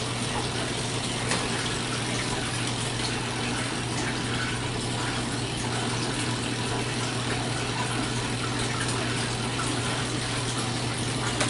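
A Laundry Alternative Superpop washer drains water into a kitchen sink with a steady, continuous gushing flow and a faint pump hum underneath, alone and unbroken throughout.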